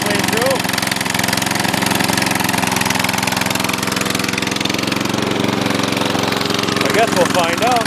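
A Dynamark lawn mower engine runs on choke, holding a loud, steady, rough drone throughout with no pauses.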